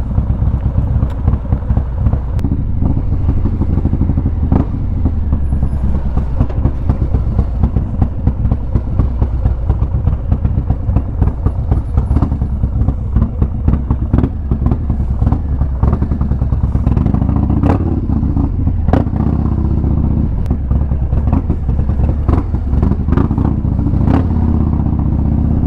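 A Harley-Davidson Low Rider S motorcycle being ridden, its engine giving a loud, steady, close rumble with rapid firing pulses that continues throughout, no speech over it.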